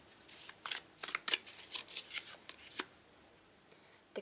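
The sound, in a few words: shuffling a deck of tarot cards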